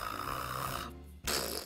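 A person imitates a dog snoring loudly, a long rasping snore followed by a short pause and then a second snore, close and alone with no talk.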